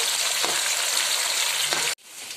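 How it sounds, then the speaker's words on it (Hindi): Sliced onions sizzle steadily in hot oil, a close, bright crackle that briefly cuts out near the end. "ये मैं इसे फ्राई कर रही हूँ। और इसको हम प्याज को जब हम फ्राई करेंगे"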